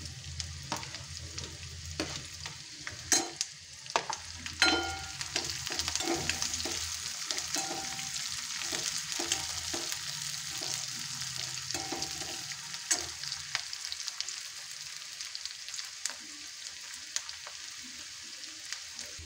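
Onion and green chilies frying in oil for dal khichdi, a steady close sizzle broken by scraping stir strokes that thin out toward the end, with no talking.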